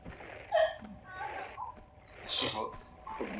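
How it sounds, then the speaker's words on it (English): A woman hiccups during a Tomb Raider II game session: a few short, sharp hiccups spaced irregularly among soft voices and chuckles in the room. "She's got the hiccups."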